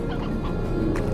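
Hens clucking in the video game Slime Rancher, a steady burst of close, overlapping fowl calls over a dense game soundscape, with no talk.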